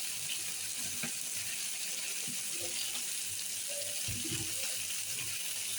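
Loitta dried-fish chili masala frying in mustard oil on a stove, giving a steady close sizzle and crackle with a few soft stirring clinks and no one talking.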